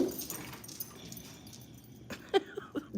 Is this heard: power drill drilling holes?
no